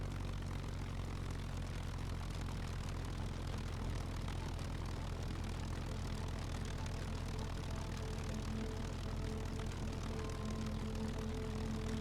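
Propeller airplane engine droning steadily in flight in the SCUM video game, a constant low hum with tonal harmonics running unbroken for the whole stretch at moderate level, no voices.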